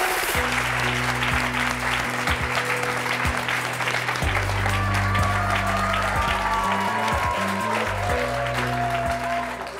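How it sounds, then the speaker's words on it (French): A studio audience applauds loudly and steadily for the whole span while steady music plays underneath. "Je vous demande de les applaudir."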